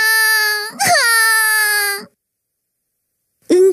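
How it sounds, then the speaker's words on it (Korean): A baby cries loudly and close, with a long shrill wail that breaks once, falls silent, then starts again at the end. "근데 아기는 자주 울어요."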